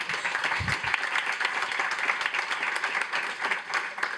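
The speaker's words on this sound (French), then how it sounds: "On peut applaudir, s'il vous plaît" An audience applauds after an award announcement at a startup event, with a dense, even burst of clapping lasting a few seconds at moderate volume.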